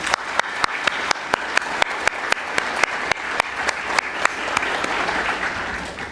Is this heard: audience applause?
yes